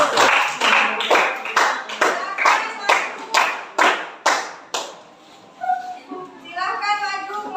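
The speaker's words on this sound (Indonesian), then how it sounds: "Berikan tepuk tangan untuk kelompok" A classroom of students claps for a presenting group, about eleven quick sharp bursts in steady rhythm that stop abruptly, followed by a few children's voices talking.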